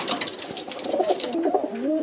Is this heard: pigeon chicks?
yes